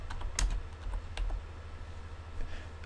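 Quick keystrokes on a computer keyboard as a localhost address is typed, a short burst of light clicks with a couple of sharper taps, close and alone.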